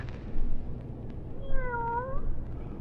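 A single drawn-out cat meow, rising then falling, fairly close over faint background rustle.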